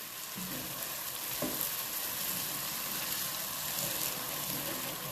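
Cream cooking in a hot pan while being stirred makes a steady, hissing sizzle with faint bubbling and occasional soft scrapes, moderately quiet and constant.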